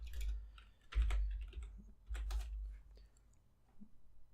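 Computer keyboard typing in irregular bursts of clicks, fairly close and moderately loud, alone with no talk over it.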